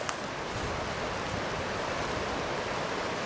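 The Wisconsin River in spring flood rushes past a walking trail as a broad, steady roar of moving water, constant and fairly close, with no voices.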